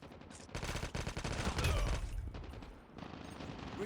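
AK117 assault rifle firing in Call of Duty Mobile, a dense run of rapid automatic shots that stays loud and close for nearly four seconds, with a brief dip before the firing picks up again.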